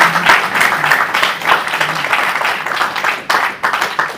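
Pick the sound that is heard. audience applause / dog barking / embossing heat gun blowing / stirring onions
audience applause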